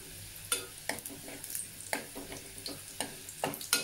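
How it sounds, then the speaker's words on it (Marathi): Garlic sautéing in oil over a low flame makes a quiet, soft sizzle. Regular spatula scrapes and taps against the pan come about twice a second. "लसूण छान आपल्याला गुलाबी होईस तोपर्यंत परतून घ्यायचा आहे"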